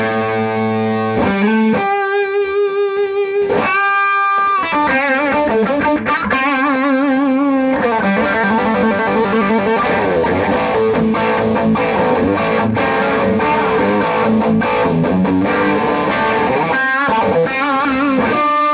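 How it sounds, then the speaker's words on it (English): A Gibson Les Paul '57 reissue plays through a Royal Analog Warrior handwired overdrive with the gain cranked into a Fender Princeton Reverb amp. Loud, saturated chords and sustained notes ring with rich harmonics, close and continuous, with no talking. "I'll be using a Gibson Les Paul 57 reissue into a Fender Princeton reverb. I've got the gain on the Warrior cranked up."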